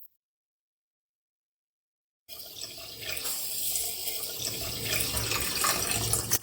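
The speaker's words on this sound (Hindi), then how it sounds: "अब हम इसमें पानी डालकर 10 से 12 मिनट के लिए उसको भिगो के रख देंगे" Water poured over basmati rice to soak it, starting after two seconds of silence as a steady, close splashing stream that grows slightly fuller as the vessel fills, with no talk.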